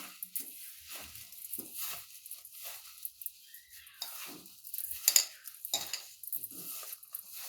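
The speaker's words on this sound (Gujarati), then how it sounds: "હવે આપણે પહેલાં આને બરાબર મિક્સ કરી દઈશું" A spoon stirs and mixes dry spices in a bowl for a fenugreek and mixed-flour churo snack, making irregular soft scrapes and light clinks, fairly quiet and close, with no talking.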